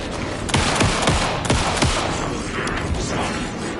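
Gunfire in Alan Wake 2: a quick burst of several sharp shots in the first two seconds, followed by a rumbling, mechanical tail of echoing noise, fairly loud and close.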